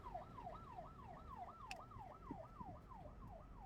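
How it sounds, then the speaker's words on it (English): A rapid wailing ambulance siren sweeps up and down repeatedly, fairly distant and faint over low road rumble in the Philippines, with a brief click partway through. "Ambulance."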